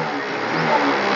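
A 2018 BS4 scooter engine in good condition revs briefly and steadily close by, a buzzing mid-pitched whine that swells slightly toward the end.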